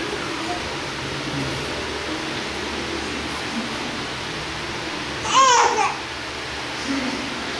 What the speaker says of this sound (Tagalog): Ang ingay ang baby.